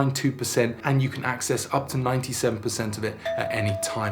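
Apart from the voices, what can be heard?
doorbell ringing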